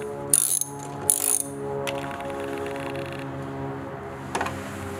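Ratchet wrench loosening the Torx bolts that hold the black garnish above the taillight on a Chrysler Pacifica, giving two bursts of quick, close clicking, then a lighter ratcheting click near the end.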